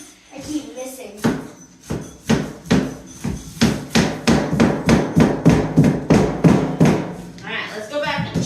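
A hammer thuds repeatedly on luxury vinyl plank flooring being installed in a bedroom, about twenty loud, close blows in a steady rhythm with brief speech near the end.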